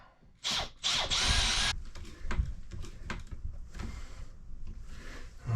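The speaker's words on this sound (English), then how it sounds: "Sapele does need pre-drilling, so I have to be a little more careful." A power drill whirs in short bursts, drilling pilot holes into sapele wood during a wooden boat restoration, followed by clicks and handling noises of tools nearby.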